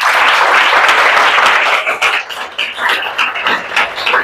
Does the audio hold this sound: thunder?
no